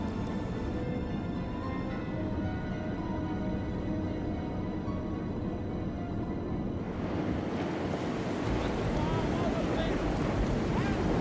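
Rough, stormy sea with broad surging waves and gusting wind noise, a wide continuous wash that swells louder in the second half, with faint background talk and ship sounds underneath.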